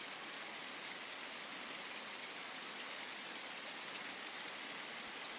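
Steady rainfall hisses evenly throughout, soft and continuous, with a few faint bird chirps at the very start.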